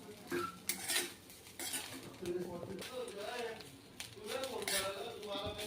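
Grated coconut dry-roasting in a pan while a utensil scrapes and clinks against the metal in irregular bursts, with a voice speaking intermittently over it.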